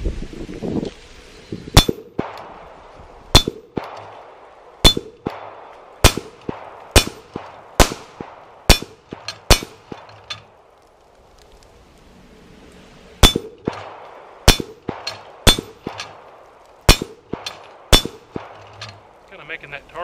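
A Beretta M9A3 pistol fires steady strings of shots that ring loudly off steel targets outdoors, each bang followed by a bright metallic clang. Two long, evenly paced volleys are separated by a brief pause.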